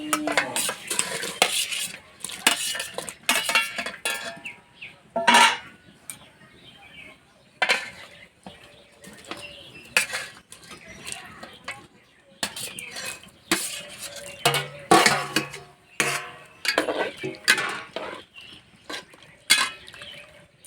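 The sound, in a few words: fried potatoes and chicken added to hot water and stirred in pot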